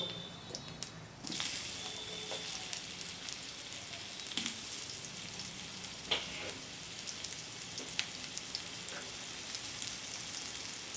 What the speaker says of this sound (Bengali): আমটাকে আমি একটু ভেজে নেব।